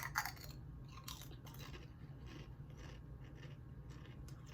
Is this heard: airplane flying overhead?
no